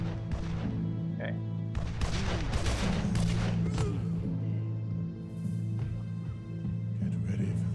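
Gunfire in the video game Evil Genius rattles in dense bursts over a steady low hum, busiest in the first half and thinning toward the end.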